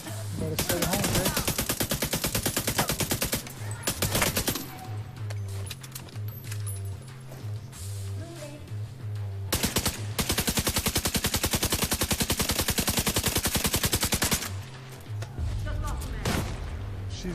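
Rapid automatic gunfire from the video game The Division 2, long dense bursts of repeated shots with short pauses between volleys, loud and up front.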